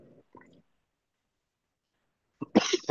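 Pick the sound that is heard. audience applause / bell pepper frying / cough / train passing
cough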